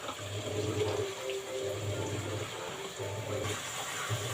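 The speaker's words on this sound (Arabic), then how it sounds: "انا كده هضيف كوباية اللبن" A cup of milk poured for homemade butter, a soft, steady liquid splash and trickle, faint and close, with no talking.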